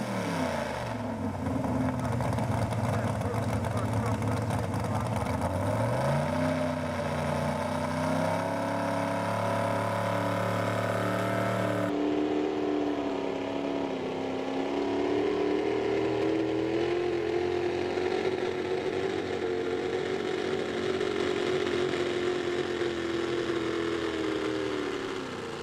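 The engine of a 1954 Chevy truck named Disorderly Conduct roars loudly and steadily throughout a truck pull, rising and falling with revs, dipping in pitch briefly and then holding a strained, sustained drone.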